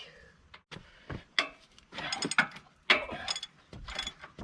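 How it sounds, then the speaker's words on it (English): Large ratchet turning on an excavator during a track roller replacement, a series of loud, uneven metallic clicks and clunks in bursts with pauses, close by, and no talk. "Man, it's a big ratchet."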